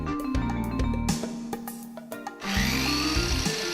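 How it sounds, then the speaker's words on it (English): A Motoyuki Global Saw steel-cutting blade bites through metal stock in loud, grinding bursts with a steady motor drone beneath, pausing briefly mid-cut before a bright, harsh screech resumes. "Cutting with a steel cutting saw blade allows high-speed cutting not possible with a cut-off wheel."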